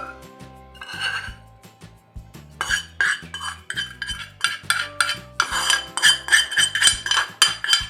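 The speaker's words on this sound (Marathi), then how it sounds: "तर आता आपण हा मसाला चांगला मिक्स करून घ्यायचा आहे फोडणीमध्ये" A spoon clinks and scrapes steadily against a bowl while mixing green karonda pickle masala into cooled tempering, with repeated close, rhythmic stirring strokes and no talking.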